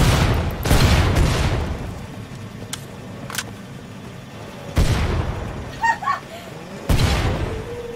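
An exploding zombie bursts in the Killing Floor 2 Krampus Lair map, heavy booms and blasts cutting through gunfire and game noise, with several loud hits spread across the stretch while a player talks over it.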